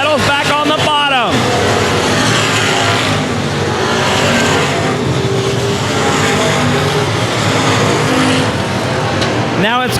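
Race cars roar around the oval at Cotton Bowl Speedway in a dense, continuous engine drone, with cars whining past up close at the start and end while an announcer talks over the racket.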